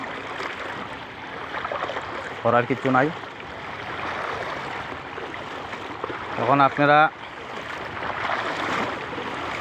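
Someone wades through waist-deep rain floodwater, making continuous sloshing and swirling water, with someone talking briefly twice over it.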